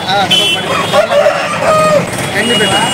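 A rooster crows loudly and close at the Sunday poultry market in Nellore, its drawn-out calls backed by clucking fowl, traffic and people talking nearby.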